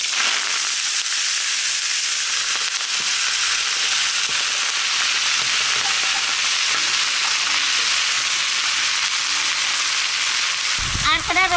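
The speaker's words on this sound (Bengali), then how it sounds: "এইবার কাঠখোল শাক বাজিয়ে নেব।" Kalkhol greens frying in a pan, a loud, continuous sizzle and crackle of hot oil, close and unbroken, ending with a faint clink of the utensil.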